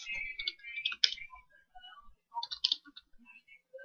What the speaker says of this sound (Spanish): oprimimos control shift enter y aparecen las frecuencias